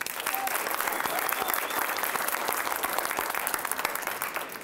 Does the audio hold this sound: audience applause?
yes